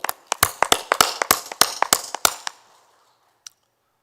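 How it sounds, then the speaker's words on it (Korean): A small congregation claps during an early-morning online prayer service: about two seconds of sharp, fairly close hand claps that thin out and stop, followed by near silence and one last isolated clap. "하나님께 영광의 박수 한번 돌려봅시다"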